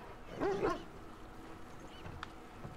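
A dog in the video game Watch Dogs 2 gives a short whimpering bark early on, fairly close, followed by quiet game ambience and a faint click.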